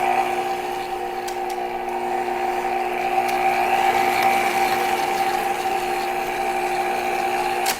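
A stand mixer with a dough hook turns dough, a steady motor whir and hum with faint clicks, close and continuous with no talking.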